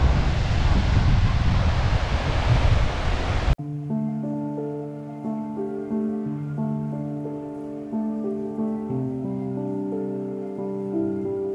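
Wind and surf at Bashbaria sea beach in Sitakunda roar as a loud broadband wash for the first few seconds, then the clip cuts abruptly to layered tonal music that continues to the end.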